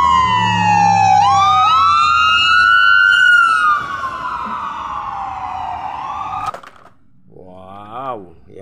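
Wailing emergency siren on an ambulance, rising and falling loudly for several seconds before cutting out abruptly, followed by a short quieter warbling siren burst.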